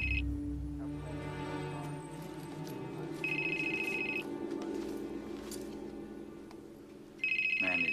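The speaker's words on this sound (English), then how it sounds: "Calling your cell phone now." Cell phone ringing with a repeated electronic tone that sounds in bursts over a steady background hum and music, fairly loud and close, with no one talking.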